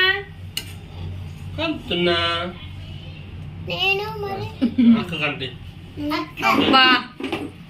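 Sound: stirring food in a pot in the kitchen

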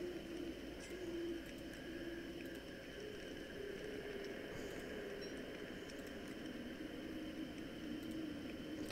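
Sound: birds cooing in the video game Don't Starve

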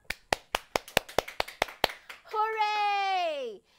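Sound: clapping

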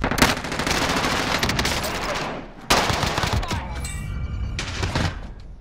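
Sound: gunfire in the video game Call of Duty Warzone

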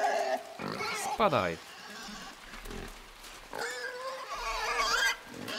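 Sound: pig grunting in the video game Inside

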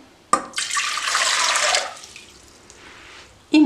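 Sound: pouring water

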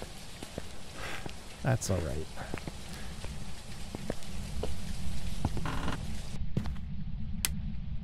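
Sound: rain falling in the video game Phasmophobia

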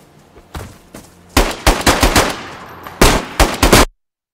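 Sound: gunshots in the video game DayZ

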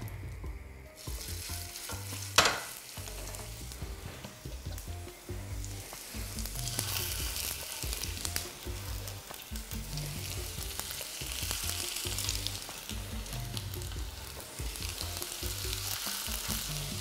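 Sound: frying vegetable-stuffed crepes sizzling in a pan

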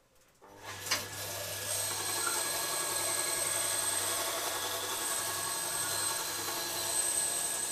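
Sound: sharpening a woodworking tool

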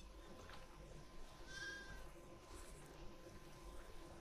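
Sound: sheep bleating in The Last of Us Part II video game

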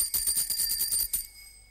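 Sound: bicycle bell ringing

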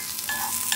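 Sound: stirring ingredients dry-roasting in a pan for Thai jaew

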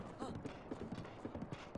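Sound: horse hooves clip-clop in Zelda Breath of the Wild video game

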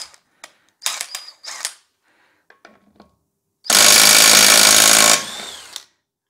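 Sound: Makita impact wrench undoing wheel lug bolts

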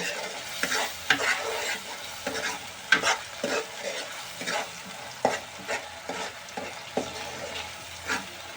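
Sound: ginger and garlic being stirred and fried in a pan

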